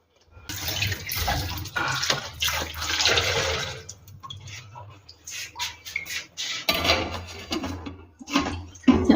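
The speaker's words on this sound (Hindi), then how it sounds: "इसमें थोड़ा सा पानी और डालूंगी ताकि आलू सॉफ्ट हो जाए" Water poured from a container into a cooking pot of potatoes in a home kitchen, splashing and gurgling in uneven bursts with brief pauses and clinks, close and fairly loud with no talk.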